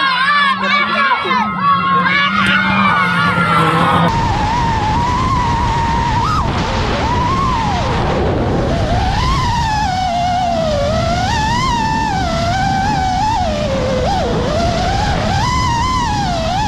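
Crowd noise and cheering at a Cikarang race, with a car engine and possible skid as a rally car crashes on a slightly muddy red dirt track; loud, continuous, busy mix throughout.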